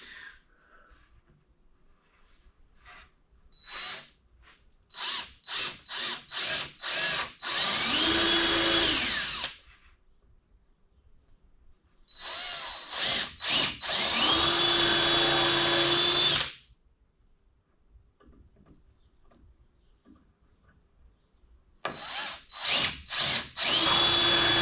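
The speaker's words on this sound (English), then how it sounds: "Not much to see, drilling holes." A power drill bores holes in a cedar wood door. Quick trigger pulses alternate with long, loud sustained drilling runs, separated by quiet gaps, and the spells of brief bursts recur near the end.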